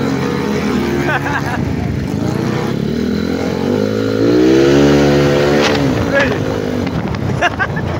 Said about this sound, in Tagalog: may NMAX na dumaan